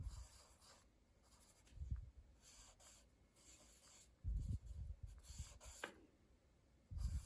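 Pencil sketching a face on paper, quick scratchy strokes and rubbing in short bursts with pauses, close and fairly quiet, no voices.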